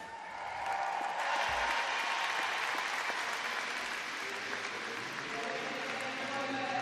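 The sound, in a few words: crowd cheering and applauding at a triathlon finish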